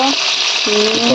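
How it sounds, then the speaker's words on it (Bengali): Potato pieces frying in a pan make a loud, close hiss for a brief moment, with faint snatches of voice audible over the sizzle. "লাল লাল করে ভাজি আলুটাকে"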